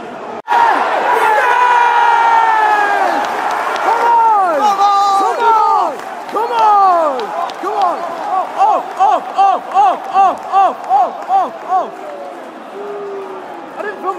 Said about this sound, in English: a loud cheer from us